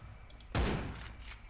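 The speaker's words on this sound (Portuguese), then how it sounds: "Eu tô tentando te dar um tiro, vai." A single sharp gunshot cracks out in the dinosaur shooter Primal Carnage: Extinction, loud and close, with a short fading tail and faint game sounds behind it.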